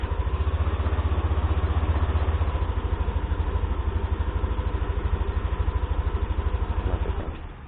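Yamaha Aerox 155 scooter from 2021 idling after a start, a close, steady rhythmic engine putter with even pulses that fades as the engine shuts off at the end.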